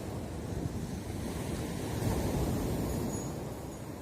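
Winter sea surf rolls onto the shore at Erdemli, Turkey, a continuous rushing wash of waves mixed with heavy wind buffeting the microphone, with no voices.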